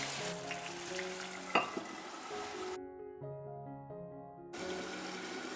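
Japanese tofu simmers in sauce seasoned with soy sauce, oyster sauce and sugar, giving a faint, steady sizzle and bubble that drops out briefly, leaving only background music.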